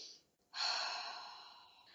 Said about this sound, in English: We breathe down into our belly.